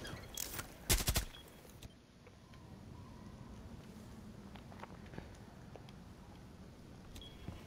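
Gunshots in Rainbow Six Siege: a tight, loud cluster of shots early, followed by quieter, sporadic distant pops over a low background rumble.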